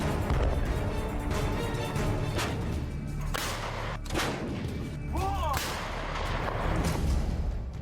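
Heavy M777 howitzer artillery firing during the war in Donbas, Ukraine: several sharp, loud blasts burst out at irregular intervals over a constant roaring, rumbling background, with a brief voice calling out partway through.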